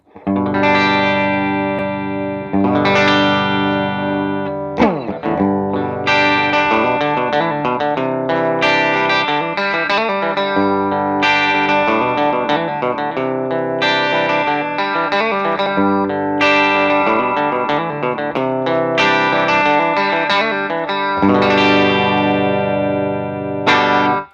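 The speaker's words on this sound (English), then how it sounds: "what I use this for typically is very slight compression, and I typically leave it on all the time when I'm playing with clean tones" Clean electric guitar with slight compression from a compressor pedal in an analog rig plays a sequence of ringing chords and arpeggiated notes, loud and close, with no talking.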